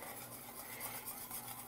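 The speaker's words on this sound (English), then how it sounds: "I'm gonna put this in the boiling beef stock and I'm gonna whisk it up" A whisk stirs white cornmeal into boiling beef stock for Botswana pap, a faint, steady scraping and swishing that runs through the brief moment without any talk.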